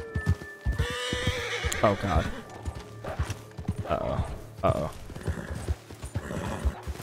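A horse in the video game Red Dead Online whinnies loudly several times over steady clip-clopping hooves, with a voice briefly reacting alongside.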